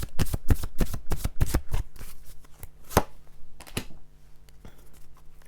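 Romance Angel Oracle cards are shuffled by hand close up, with a quick run of crisp riffling slaps at first, then slower scattered card taps and soft shuffles.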